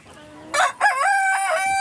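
A rooster crows once, loud and close, a strained rising-then-falling call that cuts in after a moment of quiet.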